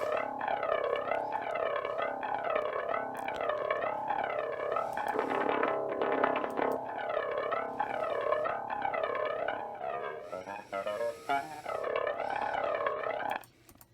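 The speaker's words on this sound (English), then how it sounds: "with the flanger on, it sounds like this" A heavily effected, distorted bass line with a sweeping, swirling jet-like modulation, playing a repeating riff loudly and alone.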